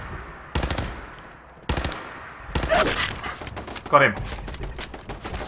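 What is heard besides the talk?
turret shooting in video game Fallout 4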